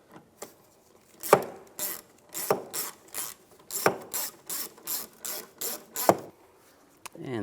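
Ratcheting driver turning a screw into a 2015-2020 Cadillac Escalade performance tail light, a rapid series of sharp mechanical clicks in bursts of steady rhythm, close and fairly loud, with a few louder clunks.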